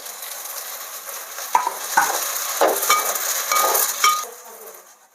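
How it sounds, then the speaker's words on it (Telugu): Chopped vegetables and tomato cooking in oil in a pan while making spicy pasta, giving a steady close sizzle with occasional stirring scrapes and clatters; no talking. "ఇవన్నీ కొంచెం ఉడకనియాలి ఆయిల్లో"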